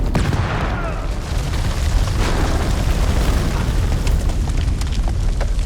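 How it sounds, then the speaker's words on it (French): A grenade explosion in the horror video game House of Ashes erupts as a loud, sustained, rumbling boom with crackling debris that fills the whole stretch. "Oh la grenade!"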